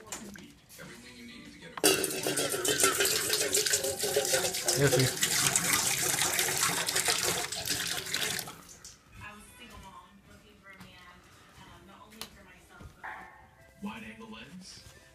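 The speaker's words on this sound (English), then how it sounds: "And put some water in your dishes." Water pours loudly from a tap for several seconds, splashing into a dog's dish, then stops; a person speaks softly before and after.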